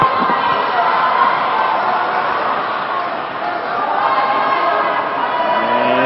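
A crowd at a women's dodgeball world championship match between the USA and Canada keeps up a steady roar of cheering and chatter in a large hall, with a commentator talking over it.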